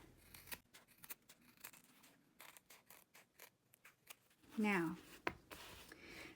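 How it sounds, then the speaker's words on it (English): Scissors snip through fabric while trimming the seam allowance of a lined, sewn pouch, a brief burst of close cutting after a stretch of soft handling noises and quiet talk. "Go and trim the other side."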